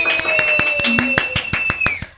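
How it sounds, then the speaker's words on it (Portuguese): A small group claps in a sparse, uneven burst of about a dozen sharp hand claps, with a faint tone running underneath. "Uma salva de palmas!"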